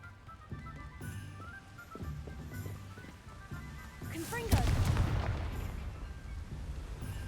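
A Confringo fire spell blast cast in Hogwarts Legacy, bursting as a single loud, booming explosion midway through, with game ambience and music underneath before and after the hit.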